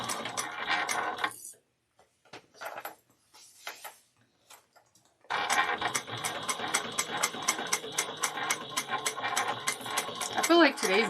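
A sewing machine stitches a vinyl bag in bursts, with rapid ticking needle strokes that stop and start near the mic and then run steadily for several seconds; a person speaks briefly between runs.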